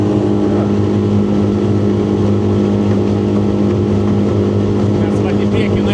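A Whaly 380 boat, 2025 model, driven by a 20 HP Tohatsu outboard motor, runs at a steady, loud, constant drone throughout, with water rush and wind noise layered on top.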